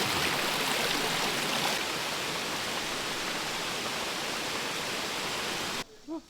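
Steady broadband rush of flowing stream water fills nearly the whole stretch, loud and close, then cuts off abruptly near the end, leaving a brief quiet moment with a faint voice.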